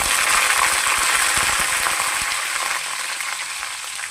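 Urad dal and curry leaves frying in hot oil for a tempering make a bright, continuous sizzle with fine crackling pops, close and fairly loud.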